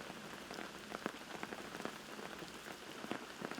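Steady rain patters on surfaces outdoors at a disc golf tournament, a soft, even hiss dotted with faint drop ticks, fairly quiet and with no voices.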